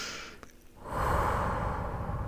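A slow, audible exhale during a guided relaxation exercise follows a soft breath in, the long airy breathing-out swelling and holding steady, close and quiet, with no talking over it.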